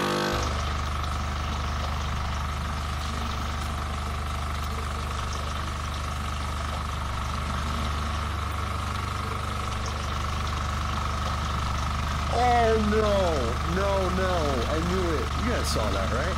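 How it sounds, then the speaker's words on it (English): An embalming pump in the horror video game The Mortuary Assistant runs as a steady low mechanical drone that holds throughout, with brief voice-like sounds rising over it near the end. "Engage pump and let the body drain?"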